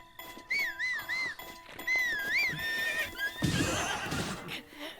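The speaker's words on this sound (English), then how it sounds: "while our horse takes time to get over here" A horse in Zelda Breath of the Wild whinnies in several loud, wavering calls, then hooves clatter in a burst of galloping toward the end.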